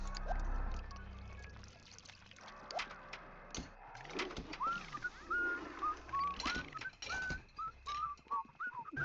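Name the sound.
layered whistling in video game The Sims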